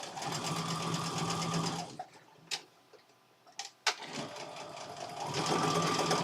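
Sewing machine chain piecing quilt fabric blocks, running in two loud steady bursts at the start and end with a short quiet gap of light clicks and handling between.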